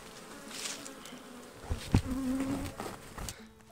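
Honey bees buzz up close at a top bar hive, several drifting past the microphone with rising and falling hums over a quiet background.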